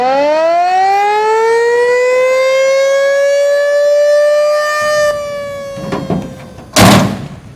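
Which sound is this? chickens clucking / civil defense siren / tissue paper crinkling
civil defense siren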